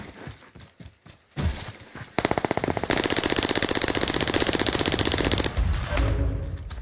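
Rapid automatic gunfire from a Call of Duty match, starting with scattered shots and then a loud sustained burst of close, evenly spaced rounds lasting several seconds before trailing off.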